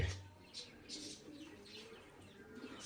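Pigeons in a coop holding about a dozen birds coo softly and intermittently, with faint chirpy calls over a quiet, low background.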